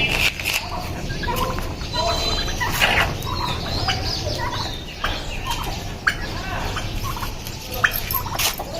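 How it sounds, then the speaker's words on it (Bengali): Chickens being fed cluck and squawk close by in a busy, overlapping chorus, with a person talking over them and a couple of sharper calls near the end. "তা আমি মুরগিগুলোকে একটু দিয়ে দিই এইটা জুসটা।"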